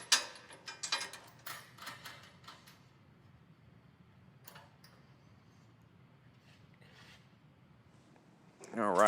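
A ratchet tightens bolts on a Chevy Silverado suspension bracket, giving a few quick, fairly close clicking bursts at the start that fade to quiet, then a brief louder mechanical rattle at the end.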